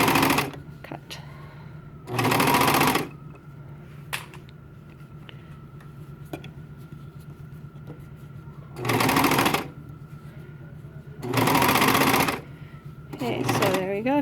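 A serger overlocker trims and stitches a fabric band or cuff in three loud machine bursts of about a second each, separated by quieter stretches where a person talks.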